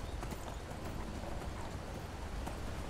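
A horse's hooves clip-clop rapidly and steadily on the ground in Skyrim, the close, even beat running throughout over a faint background wash.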